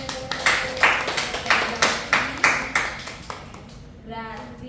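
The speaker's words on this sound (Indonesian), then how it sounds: "Boleh beri tepuk tangan." A classroom claps for a group's presentation, roughly a dozen distinct, evenly spaced claps ringing out in a steady rhythm, close and fairly crisp, fading away before a voice begins at the end.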